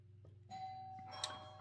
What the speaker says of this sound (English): that was the doorbell and some tradesmen doing something